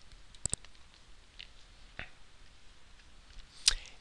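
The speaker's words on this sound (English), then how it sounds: "So let's go ahead and click that, press OK, and then click find." A computer mouse clicks in search software: a quick double click, a lone click a moment later, then a sharper click near the end, all crisp and close against a quiet room.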